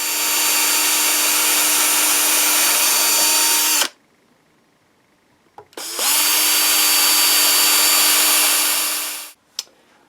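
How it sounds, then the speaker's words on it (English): A power drill bores holes for a headless guitar bridge plate in two long, steady, high-pitched runs, loud and close, separated by a short pause with a brief click. "So that's our 4 holes drilled out"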